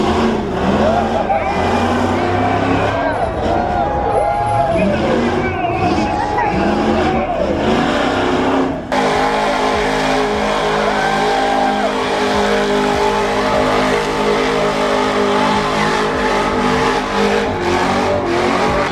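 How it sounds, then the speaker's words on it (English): Turbocharged pro drift cars of over 1,000 horsepower at a Hoonigan Burnyard car show roar nonstop, with rising and falling revs and loud engine wails that settle into a dense, steady drone midway, as people talk in the crowd. "That was the pro drift cars."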